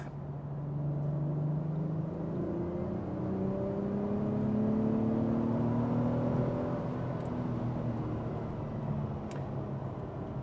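Acura TLX engine revs under driving, a steady whirring drone that climbs and dips in pitch through gear shifts, heard from inside the car with no talk.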